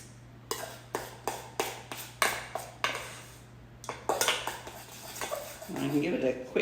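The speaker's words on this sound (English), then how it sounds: "I can give it a quick stir in here, and that just makes it slightly runnier" A utensil being stirred in a bowl of chocolate mousse, giving a run of sharp, close clinks and taps against the bowl at an uneven pace, followed by softer scraping and stirring.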